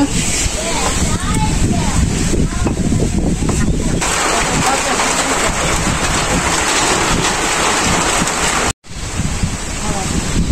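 Stormy wind roars steadily across open farmland during the paddy harvest, a loud buffeting rush with heavy microphone wind noise and a brief cut near the end.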